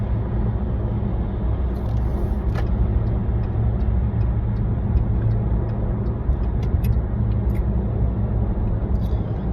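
A car driving through city traffic, heard from inside the cabin as a steady low engine and road rumble with faint ticking above it, continuous and fairly loud, with no talk.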